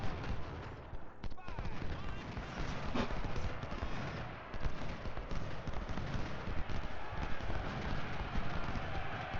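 Musket fire from skirmishers in the Civil War strategy game Ultimate General: Civil War, a dense, continuous crackle of distant volleys with horse hoofbeats mixed in, while someone talks over it.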